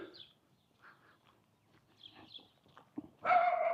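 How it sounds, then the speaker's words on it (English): A dog barks somewhere in a residential neighborhood during an outdoor walk: a few faint, distant barks, then a louder burst near the end, with no talking. "Sounds like a dog."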